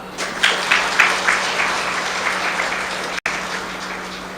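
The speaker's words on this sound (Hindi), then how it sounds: "अपने लिए ताली बजाओ" An audience at a spiritual retreat centre class claps for themselves, beginning with a few rhythmic synchronized claps that merge into sustained, moderately loud applause, with a brief dropout near the end.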